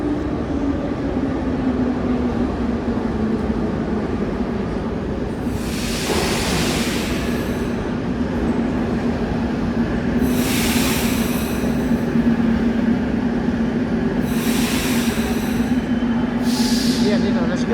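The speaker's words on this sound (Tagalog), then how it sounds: "Tingnan natin yung train." Soviet-era Tashkent subway train running with a steady low rumble and hum throughout, with repeated hissing bursts of brakes or air releases every few seconds.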